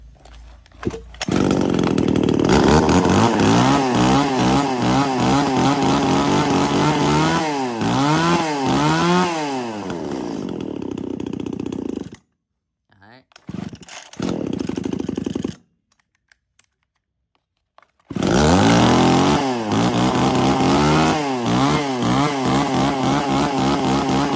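A chainsaw engine runs loud and close, revving and dropping in pitch, cuts out briefly, sputters, then roars back steady.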